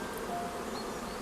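Bees buzzing, a soft steady drone that holds evenly throughout, faint and continuous with no voices over it.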